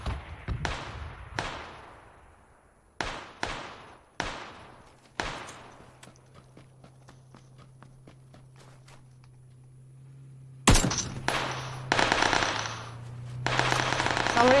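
AK rifle fire in a battle royale shooter on the Vikendi map: a string of loud, sharp single shots with ringing decay early on, a lull with a low hum, then dense rapid bursts near the end.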